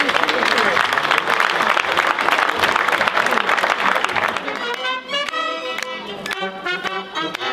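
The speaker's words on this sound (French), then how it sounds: "Alors on applaudit quand même." A crowd gathered for a Sardana gathering in the Catalan Cerdanya applauds loudly and steadily at close range, with voices mixed into the clapping before it thins out under music.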